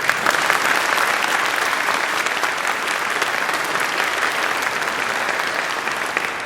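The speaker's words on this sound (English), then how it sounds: "Can we give them a round of applause?" Audience at an honor choir concert applauding in a dense, steady wash of clapping that holds at an even, loud level throughout without pause.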